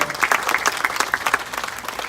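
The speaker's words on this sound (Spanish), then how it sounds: "Denle un aplauso al Señor." A church congregation claps steadily, a dense patter of many hands filling the room at moderate loudness.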